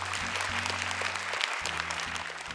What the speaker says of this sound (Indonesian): Boleh tepuk tangan untuk juri kita hari ini.